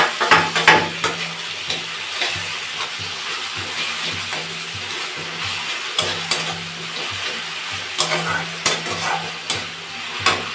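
Onion paste frying in a pan for katla kalia fish curry, a steady close sizzle and hiss with occasional stirring scrapes and clinks of a utensil against the pan.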